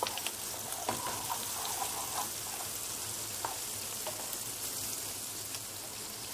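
Onions frying in a pan, a steady broad sizzle and crackle running throughout with a few sharper pops, close and moderately loud with no voices.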